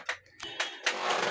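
Short bursts of rapid mechanical stitching start and stop several times, close by, ending in a steadier whirring run.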